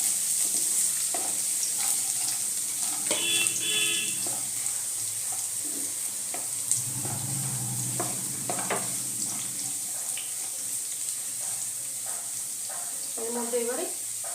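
Garlic and dried red chilli frying in oil for a bean bharta, a steady close sizzle broken by repeated spatula scrapes and clinks against the pan, with faint voices in the background.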